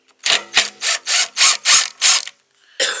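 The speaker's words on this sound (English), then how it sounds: "we have to unscrew it from the bottom" A ratchet wrench unscrews bolts from the base of a Stark charger stand, giving a close, loud run of about eight short rasping clicking bursts in steady rhythm, with a brief pause before the last one.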